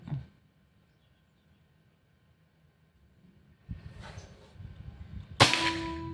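A sharp, crisp air rifle shot cracks out once near the end, following a quiet stretch and a brief low mechanical rustle; fairly close and loud.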